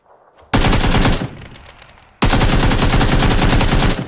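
AK rifle firing in a video game: two long, loud bursts of automatic fire, close up. The first runs about half a second after a quiet start, then a short gap, then a longer sustained burst to the end.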